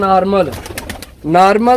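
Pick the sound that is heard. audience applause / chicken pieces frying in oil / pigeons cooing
pigeons cooing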